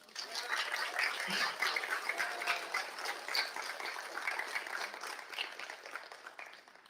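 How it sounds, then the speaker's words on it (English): Audience applause at a tech conference summit, a steady wash of many people clapping throughout at moderate volume, slightly distant and fading a little near the end. "Big round of applause for everyone."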